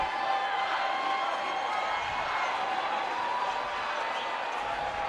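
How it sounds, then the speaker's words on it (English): A Hamilton Southeastern home crowd at a girls basketball sectional game cheers and applauds in a sustained standing ovation, a dense, steady roar filling the gym from start to end. "This HSC crowd is getting to their feet. These Lady Royals a standing O."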